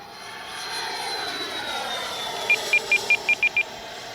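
A Freewing Avanti S V2 RC jet flies overhead with a steady, high whine from its electric ducted fan. A string of six short, bright beeps joins it near the end.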